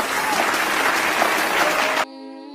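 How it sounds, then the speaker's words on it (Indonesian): Children clap together in a classroom Islamic lesson, a dense, steady burst of applause lasting about two seconds before cutting off abruptly into quiet. "Tepuk tangan anak-anak."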